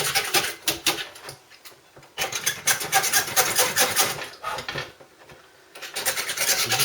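Stanley knife blade scraping powder coating off a wire spray guard in a garage, a rapid rasping scratch in repeated bursts with short pauses between strokes, close and fairly loud.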